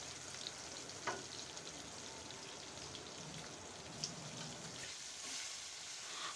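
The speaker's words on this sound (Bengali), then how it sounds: "এখন মাছগুলোকে আমি ভেজে নিচ্ছি।" Fish coated with turmeric, chili and salt fry in hot oil, giving a steady, soft sizzle with a few faint pops and no voices.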